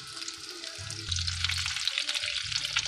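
Rice balls fry in hot oil, a close, dense crackling sizzle that swells as a new batch drops in, with faint low clinks of stirring underneath.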